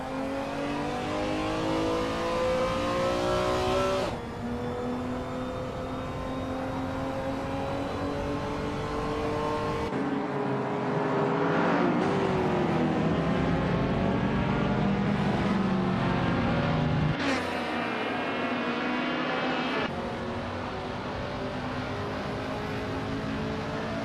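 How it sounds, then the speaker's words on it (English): A 1971 Mercedes-Benz 300 SEL racing engine in a racing video game, revving steadily with rising and falling pitch through gear changes, continuous and fairly loud with no talking. "Funny Shell Gaming is driving a 1971 Mercedes-Benz 300 SEL"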